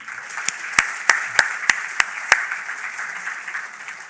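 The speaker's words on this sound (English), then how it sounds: "So therefore, we applaud even louder." An audience at an awards ceremony applauds in a steady crowd wash, with several sharp, regularly spaced individual claps near the front standing out over the first couple of seconds before the applause tapers.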